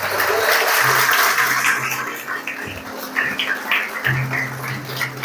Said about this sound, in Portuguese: Vamos aplaudir Jesus na vida do Elton, né?